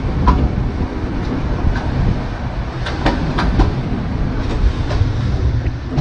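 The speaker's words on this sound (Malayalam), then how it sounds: "അപ്പോഴൊരു ലോക്കൽ ട്രെയിൻ നിർത്തിയിട്ടുണ്ട്" Local train in Yangon, Myanmar, heard as a steady rumble with faint metallic clicks and clatter and no talk.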